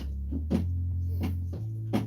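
Organ bass pedals on a single octave of plastic pedals, with the 16-foot and 8-foot stops sounding together: low, buzzing sustained bass notes that step between pitches, with soft thumps as the pedals are pressed, fairly quiet.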